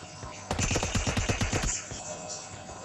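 Gunfire in the mobile game PUBG Mobile, a loud rapid burst of about a dozen automatic shots in a second and a half with a fading tail, with a faint voice behind it.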